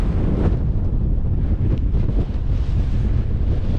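Wind buffeting a microphone on an open hilltop at Roseberry Topping on the Cleveland Way, a steady loud rumbling gust with low roar and no voices.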